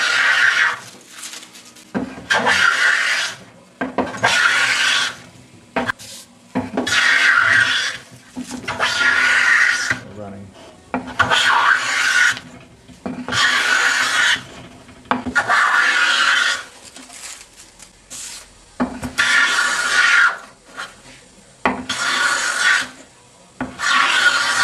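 A Blum bench plane taking wood shavings, about ten rhythmic rasping strokes, each a close, loud swish of the blade through wood separated by short quiet gaps as the plane is drawn back.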